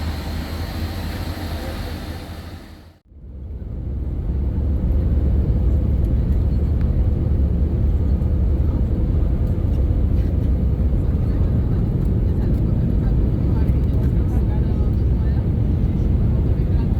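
Steady, loud airliner cabin drone on a return flight to Frankfurt, a broad continuous rumble that dips briefly near the start and then holds evenly throughout.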